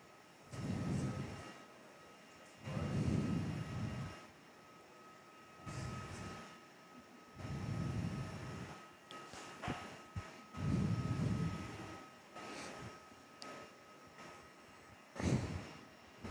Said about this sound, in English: There's a mango pancake in the screen taxiing into the bay after making their arrival in from Changi today.